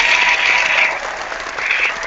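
Brief applause rises in a steady, dense patter of clapping, dipping slightly midway before swelling again, with no talking over it.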